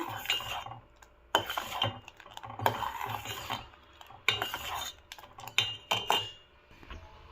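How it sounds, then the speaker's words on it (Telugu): Thickening milk is stirred in a pot over a low flame to make homemade vanilla ice cream. A spoon repeatedly scrapes and clinks against the metal in uneven bursts, close and fairly quiet, with short pauses between strokes. "లో ఫ్లేమ్లో పెట్టి ఇలా తిప్పుతూ ఉంటే బాగా చిక్కగా దగ్గరికి పడిద్ది"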